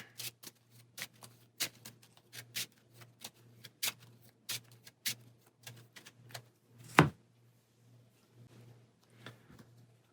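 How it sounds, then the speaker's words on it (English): Marvel Champions playing cards being shuffled in hand, a string of quick, crisp riffling snaps at an uneven rhythm, close and fairly quiet, with one louder thump partway through and a low steady hum underneath. "Shuffle those in here."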